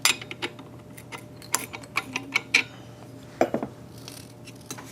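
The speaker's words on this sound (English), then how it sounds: "I just happen to have a wrench here." A wrench ratchets while tightening a part on a Maytag 72 engine, giving close, crisp clicking in short irregular bursts with pauses between strokes, no talking.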